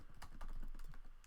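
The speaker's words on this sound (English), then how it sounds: "I might start typing out something like" Quick keystrokes typed on a computer keyboard, a close, dry run of several taps over about a second with no talk.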